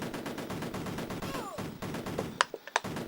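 Gunfire from the Amiga game Cannon Fodder: short, sharp shots crack out in a quick pair near the end over a steady electronic game backdrop, fairly loud and close.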